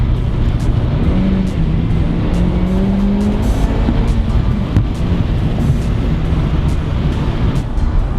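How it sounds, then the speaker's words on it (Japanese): A new Honda Civic Type R drops a gear and then accelerates hard, its engine note rising steadily, loud and close from inside the car with constant road noise underneath. "ここでほら一回ダウンシフトして一回はい。"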